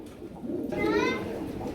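An Indian Nila Saharanpuri hen pigeon gives one close coo that rises and wavers over a murmur of background voices and market noise in a Narayanganj pigeon market.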